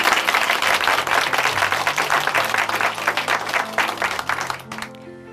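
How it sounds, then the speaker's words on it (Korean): Studio audience at a Korean Christian testimony broadcast applauds steadily and loudly for about five seconds, the dense clapping tapering near the end as soft musical tones rise underneath. "박수 부탁드립니다."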